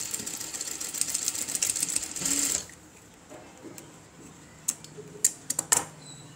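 A sewing machine stitches thread piping in a short close-up burst of rapid whirring for a couple of seconds, then falls quiet, leaving only a few scattered mechanical clicks.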